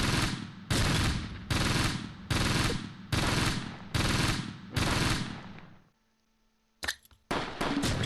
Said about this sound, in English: keep the machine gun fire coming